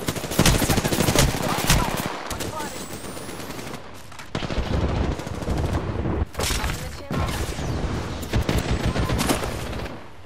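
Rapid bursts of automatic gunfire and scattered shots in a Call of Duty-style shooter, loud and close, broken by brief lulls, with a voice talking in places.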